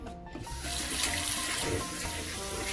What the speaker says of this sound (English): just rinse them with water.